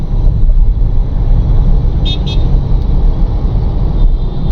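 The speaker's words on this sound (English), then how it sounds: "Bangalore traffic." Bangalore road traffic heard from inside a Scorpio N petrol SUV: a steady dense rumble of engines and tyres with a couple of short car horn toots partway through, continuous and fairly loud.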